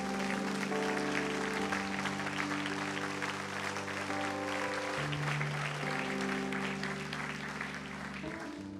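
A congregation in a Quadrangular church claps in praise, a continuous layer of applause over sustained organ-like music with held chords that shift every few seconds.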